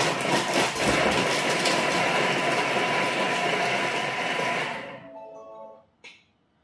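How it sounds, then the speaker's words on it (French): Food processor chopping halved shallot and onions at speed 5 for a tomato vermicelli soup: a loud, steady whirring chop for about five seconds, then it stops abruptly with a brief knock afterward. "On va remettre notre gobelet doseur. Et on va faire 5 secondes vitesse 5 pour hacher tout ça."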